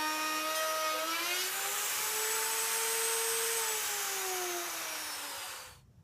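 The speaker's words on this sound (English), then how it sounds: "keep the router completely plunged down so that you don't cut through the template" A plunge router cuts a sink opening along a clamped template, a loud, close, sustained whine with gliding pitch that holds for several seconds before cutting off abruptly at the end.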